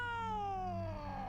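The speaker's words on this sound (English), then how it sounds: "Oh, that's a freaky looking cat." A single drawn-out meow with a slowly falling pitch from a strange-looking cat in a Junji Ito horror video game, close and clear over a low steady background hum, lasting about a second.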